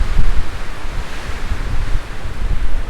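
Strong wind roars across a closed-off terrace in Ronda, Spain, as a loud, constant rush with gusty buffeting on the microphone and no voices.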